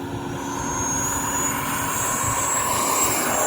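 A Freewing F-22 radio-controlled model jet with a 90mm ducted fan takes off, giving a steady, loud whine and rushing roar that holds and swells slightly, heard without any talking.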